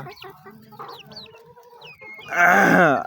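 Chickens being fed at midday cluck softly close by in a few short calls, then one bird lets out a loud, drawn-out squawk near the end.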